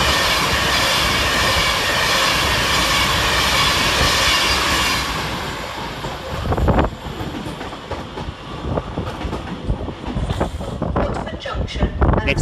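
Avanti West Coast Class 390 Pendolino, unit 390132, passing on the fast line at Crewe station, a loud steady rush with wind buffeting for about five seconds that then gives way to clattering wheel noise and rail clicks.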